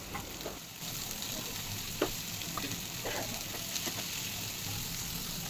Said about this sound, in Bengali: সেই তেলের মধ্যে পেঁয়াজ আর কাঁচামরিচগুলো দিয়ে দেব